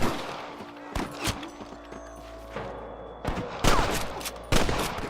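Sniper gunfire in the video game Red Dead Redemption: several sharp rifle shots spaced irregularly, echoing against a quieter background with a low rumble, with little talk.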